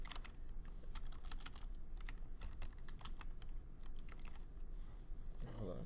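Keys clatter steadily on a computer keyboard as an email and password are typed, a continuous run of close, quiet tapping with no one talking.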